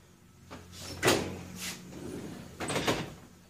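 A cast iron Dutch oven lid or oven door opening to get at an 11 lb Easter ham, with a few knocking, scraping clatters over about three seconds, moderately close and quiet, no talking.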